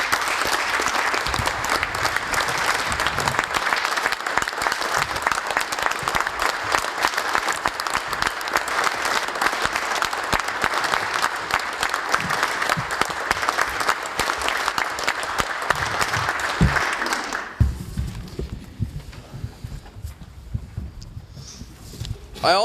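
Sustained applause fills a legislative assembly chamber as members welcome two national representatives of fallen troops on the 70th anniversary of VE Day; steady, dense clapping runs loud for about seventeen seconds, then cuts off abruptly into quieter room noise.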